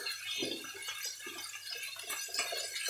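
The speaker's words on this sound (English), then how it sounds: "I'm just gonna rinse our prawns." Prawns are rinsed under running water, a steady close splashing and trickling with no voice over it.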